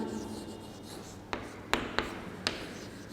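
Handwritten numbers going onto paper in a class setting: a few quiet scratches followed by four sharp pen taps and strokes in quick, uneven succession, heard alone without speech.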